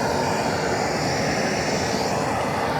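A propane torch roars steadily against a burning brush pile while land is being cleared, a loud continuous broadband rush with no breaks.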